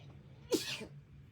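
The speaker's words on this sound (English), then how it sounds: "I'm going to sneeze." A single quick, sharp sneeze bursts out close by against a quiet background hum.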